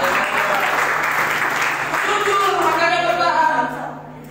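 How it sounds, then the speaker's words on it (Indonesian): Audience in a church applauding for the treasurer, a sustained burst of clapping that fades out toward the end, with a voice speaking over it. "Aplaus untuk bendahara kita"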